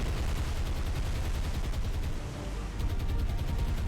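Heavy naval ordnance fire in the War on the Sea Mediterranean campaign, a dense continuous roar of rumbling gunfire and blasts, loud and sustained with no talking.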